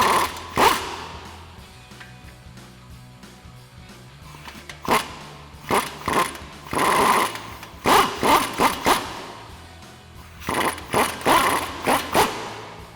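Short bursts of a power tool whir and rattle as a strut bolt is run out on a Toyota Tundra during a suspension lift install, with several repeated pulses separated by pauses, close and fairly quiet.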